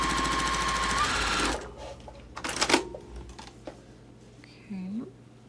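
A sewing machine stitches quilt pieces together with a 1/4-inch seam, producing a fast, steady mechanical whir at close range that runs for over a second and then stops, followed by handling sounds and brief talk.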